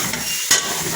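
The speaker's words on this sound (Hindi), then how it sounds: "अब मैं इसमें ऐड कर रही हूँ चॉप की हुई प्याज" Chopped onion drops into a hot frying pan while cooking suanjana, producing a brief close clatter over a steady, loud sizzle that fills the whole moment, with no talking.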